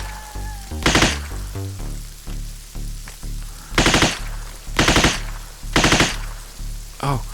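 Machine-gun fire from the military shooter game ArmA 3 comes in several loud, close, rapid bursts spaced across the stretch, with quieter rumbling game ambience between them.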